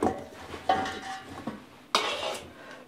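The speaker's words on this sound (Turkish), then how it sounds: "Şimdi tenceremi alıyorum." Metal cooking pot handled in a kitchen while making Hatay-style pumpkin dessert: a few sharp clanks and scrapes spaced about a second apart, close and fairly quiet, with no talking.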